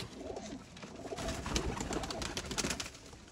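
Sialkoti pigeons, a golden-category pair, coo in soft repeated throaty calls close by, with faint rustling and shuffling in the background and no voices.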